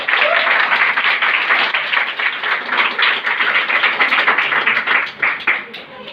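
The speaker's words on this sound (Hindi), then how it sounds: "जोरदार तालियां इनके लिए।" An audience at a Modicare gathering breaks into loud, dense applause, a steady wash of many hands clapping that carries on throughout.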